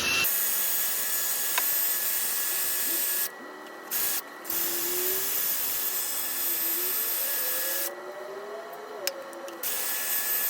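Power drill boring into an engine cylinder head, a steady high whine with rising pitch sweeps that cuts out briefly twice, heard close alongside a spray can of PB Blaster penetrating oil and a shop vacuum clearing metal chips.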